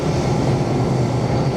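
Steady rumble of a double-deck S-Bahn commuter train running on the Milan suburban rail line between Porta Garibaldi and Porta Venezia, heard from inside the carriage as a continuous, moderately loud, even drone with no voices.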